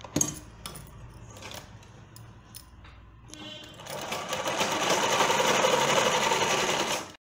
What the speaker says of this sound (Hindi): हमने अपनी बेल्ट पे सिलाई लगा ली